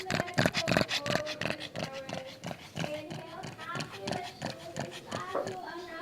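Puppies at an afternoon puppy yoga class at NAIT give a few short yips and whimpers, mostly buried under a loud, continuous voice talking over the whole stretch.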